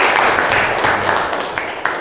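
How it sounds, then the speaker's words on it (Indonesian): Classmates in a school classroom applaud a student, a short burst of many hands clapping close by, dense at first and thinning out toward the end. "Tepuk tangan untuk Anissa"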